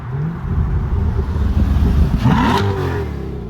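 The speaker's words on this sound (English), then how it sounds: "for it to sound like that out the factory, at the end of the day, it does have a V8 engine" A 2026 Corvette C8 with a V8 engine revs loudly and close by, a deep steady roar with a rising sweep in pitch near the end.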